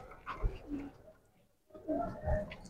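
Pigeons coo in a loft kept by a Bengali fancier, soft low rolling calls in two bursts separated by a brief pause, fairly close and quiet, with no talk over them.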